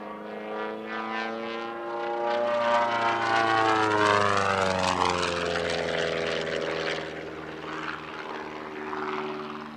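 A canard-configured kit plane with no vertical stabiliser and rudders mounted on the winglets flies past at an airshow, its propeller engine droning louder then fading in a steady Doppler sweep.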